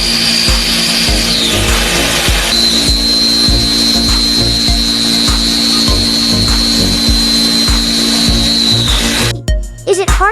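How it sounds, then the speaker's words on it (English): Loud machine grinding as a CNC drill bores into an iron block, a high steady whine over rhythmic scraping pulses, continuous and close, ending in a few clattering knocks. "The drill bit moves automatically, following a digital pattern to scrape the inside of the iron"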